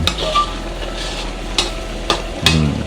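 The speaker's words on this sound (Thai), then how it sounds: "ใส่ นกกระทาไปที่เราลวนไว้นี่ใส่ลงไปเลยครับ" Cooked quail tossed into a hot pan for a spicy southern Thai stir-fry sizzles steadily, with several sharp scrapes and clanks of a utensil against the pan.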